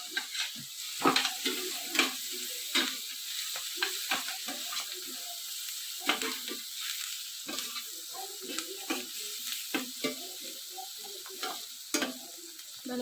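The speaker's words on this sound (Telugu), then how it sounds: "ఆనియన్స్ కొంచెం ఫ్రై అయ్యాక ఆనియన్స్ని కొంచెం పసుపు వేసుకొని అటు ఇటు కలుపుకోవాలి." Sliced onions frying in a pan with a pinch of turmeric, sizzling steadily while a spatula scrapes and stirs them in repeated short strokes, close and alone.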